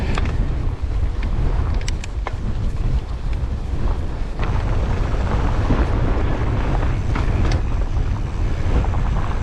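Strong wind roars loud and constant across the microphone while mountain biking on Derwent Edge, a broad low buffeting rumble with gusty surges and occasional rattles, no talking heard.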